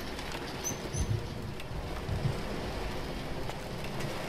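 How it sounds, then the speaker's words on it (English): Steady rain falls in This War of Mine, a soft continuous hiss with faint scattered drips and a few bird-like chirps over a low wind rumble, with no talk. "I hate the rain"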